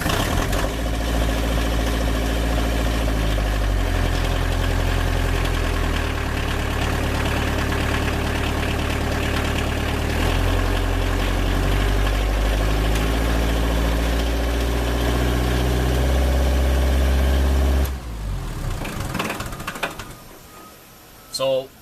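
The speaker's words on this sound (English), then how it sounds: "we are going to start the tractor, then hit the test button when it is at idle." A Bobcat tractor engine idling steadily with a low, even rumble for most of the stretch, then cutting out near the end, leaving only scattered mechanical noises and a last brief thump.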